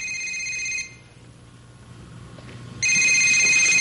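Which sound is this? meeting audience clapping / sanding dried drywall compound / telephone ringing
telephone ringing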